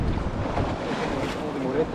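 Open sea off a Zanzibar beach in Tanzania, with boats setting off as the waves ease: steady wind-buffeted surf and water wash, continuous and fairly loud, with no clear voices.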